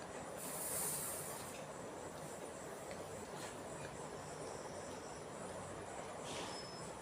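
A Motive toy train set runs along its track with a steady rolling rumble and faint squealing wheels, quiet and continuous, with no talk.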